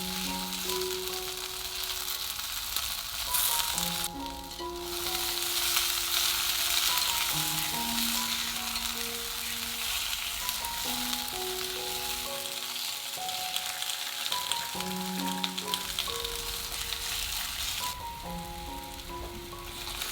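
Soaked shiitake mushrooms pan-fry on both sides in shallot oil with garlic, sending up a loud, even sizzle and crackle that runs on for a long stretch beneath soft background music.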